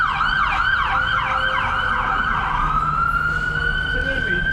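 An ambulance siren wails nearby on Canal Street, Manhattan, its rising and falling tone sweeping past over a background of road traffic.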